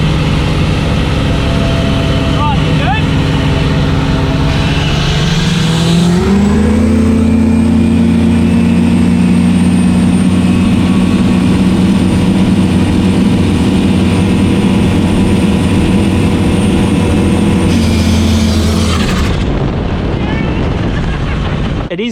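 A modified engine running on water/methanol injection through a big nozzle, a loud steady drone with strong low harmonics that rises in pitch and holds for a long stretch before cutting off near the end, with voices over it.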